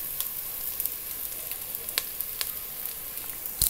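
Rice sizzling and frying in a hot pan for chicken biryani, a steady close crackle with occasional sharper pops, with no talking.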